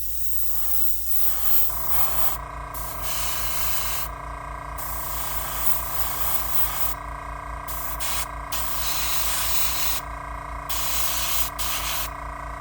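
An airbrush sprays Alclad lacquer paint onto a Tamiya Mustang GT4 model car body, a steady close hiss that cuts in and out in short bursts over a constant low compressor hum.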